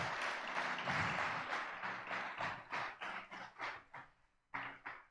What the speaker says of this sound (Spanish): Le da palmas fuertes.